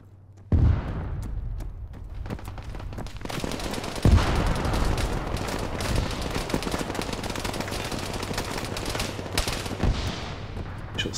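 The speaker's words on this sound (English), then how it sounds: "Sounds like another enemy shooting, I think." Enemy gunfire in the video game Arma 3: sustained automatic shooting, loud sharp reports opening the burst and a heavy crack midway, then dense continuous firing with distant booms mixed in, no voices.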